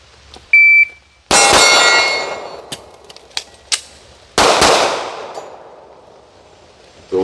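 A shot timer gives a short, sharp electronic beep, then a Smith & Wesson M&P pistol fires two loud, separate shots about three seconds apart. Each shot cracks close by and rings away briefly, with faint clatter between them.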